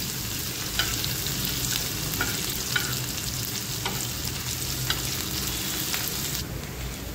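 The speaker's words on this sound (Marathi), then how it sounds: "ठेचून घेतलेला लसूण, मिरची, हे सर्व व्यवस्थित परतून घ्यायचं." Crushed garlic and green chili sautéing in a pan, a steady close sizzle broken by regular sharp spatula scrapes and taps against the metal.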